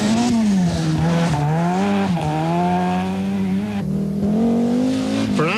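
An Audi rally car tears along a street stage at the 1991 Donegal International, its engine howling steadily at high revs with gear shifts and brief rises and dips in pitch, loud and close throughout.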